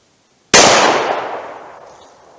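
A single loud, close gunshot from a .38 Special revolver firing Buffalo Bore lead-free standard-pressure ammunition at 25 yards, cracking sharply and then ringing off in a decaying outdoor echo.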